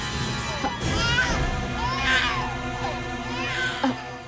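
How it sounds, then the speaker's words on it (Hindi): A baby cries in several rising and falling wails, outdoors near a garden, with a crowd of people gathered nearby and voices talking in the background. "बच्चे की रोने की आवाज आ रही है"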